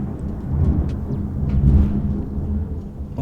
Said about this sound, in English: There's a very, very loud rumbling from outside. I don't think it's thunder, so that's kind of worrying. Just a second. Oh, it is thunder.